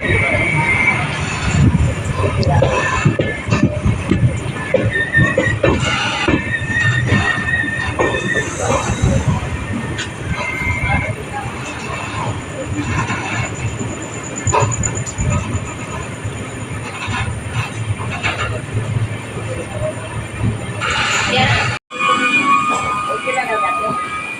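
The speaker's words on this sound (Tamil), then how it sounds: "நம்ம ட்ரெயின் வந்து ஒரு 1:43க்கு நம்ம விருதுநகர் ஸ்டேஷனில் வந்து ரீச் ஆகிருக்குங்க" Train NB 20604, running from Nagercoil Junction toward New Jalpaiguri, arriving at Virudhunagar station with a steady rumble and rattle of rolling cars and some wheel squeal, close and continuous, with voices over it.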